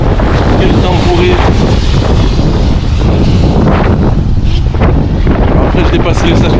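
Strong wind buffets a microphone during bad weather in the Lofoten Islands, Norway, a loud constant roaring rumble with no break, and a voice talks faintly underneath.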